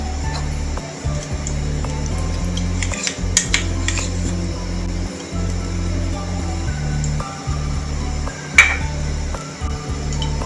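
Ghee spooned into a pan for suji laddu, heard as steady close clinks and scrapes of a metal spoon against cookware over a constant low hum, with a sharper clink near the end.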